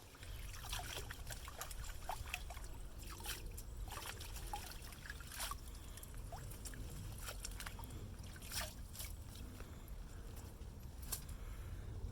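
Freshly harvested celeriac from an allotment field being washed in water: a steady wash of sloshing and trickling with small splashes running throughout, with no talking.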